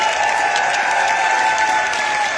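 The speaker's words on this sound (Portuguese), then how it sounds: "receber a salva de palmas da nossa plenária" A plenary assembly gives a round of applause at a movement's anniversary gathering, a steady, dense clapping from a large crowd, even in level throughout, with a faint tonal hum beneath it.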